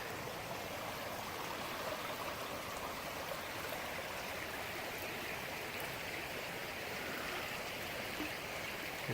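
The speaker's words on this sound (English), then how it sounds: "My bubbling brook turned into a roaring little creek." A roaring little creek in Red River Gorge, swollen from a bubbling brook, rushes in a steady, dense wash of water close by, unbroken throughout with no voices.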